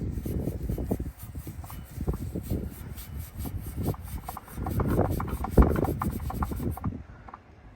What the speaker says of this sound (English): take your steel wool, and all we're gonna do is just gently rub the tips